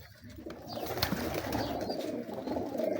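Prince Kamgar pigeons in a breeder's loft coo softly and repeatedly nearby, a low murmuring chorus with faint rustling and no talk.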